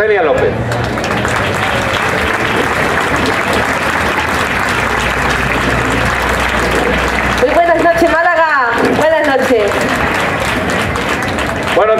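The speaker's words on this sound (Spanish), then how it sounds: "les pido que le demos un fortísimo aplauso" Audience applause for a performer on a Málaga television show, loud and dense throughout, with voices rising over the clapping near the end.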